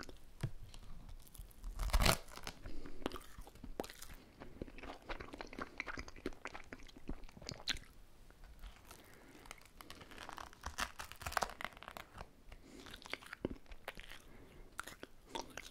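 A crunchy, sticky candy is bitten and chewed close to the mic in ASMR style, with crisp cracks, wet mouth sounds and crinkly crunching over several seconds.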